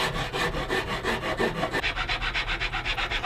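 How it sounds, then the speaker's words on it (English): A Japanese saw rasp shapes a wooden cigar box guitar neck in quick, steady back-and-forth strokes, a harsh rasping scrape repeating about five times a second, close and loud with no voices. "After the spoke shave, I'll go to this Japanese saw rasp."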